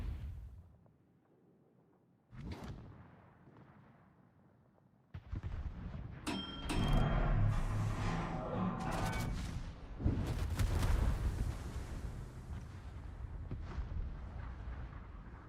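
Heavy naval gun salvos in World of Warships, deep booming blasts that erupt with a rumbling roar and roll on continuously, loud and close with metallic ringing layered in.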